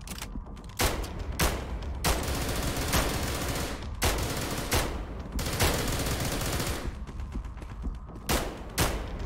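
Bursts of loud automatic gunfire from SCP Containment Breach, arriving as repeated sharp volleys roughly every second over a constant rumbling background, with no talking.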